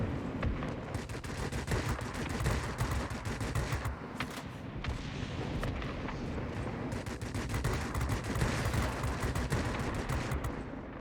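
Fighter plane nose guns in the World of Warplanes game, a Vampire at tier VIII, firing long, loud, rapid streams of shots with short gaps between bursts.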